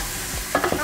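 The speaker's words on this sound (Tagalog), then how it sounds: "Haluin natin maigi." Garlic pepper beef being stirred with flour in a hot pan, a low sizzle followed by quick scraping strokes of the spoon near the end.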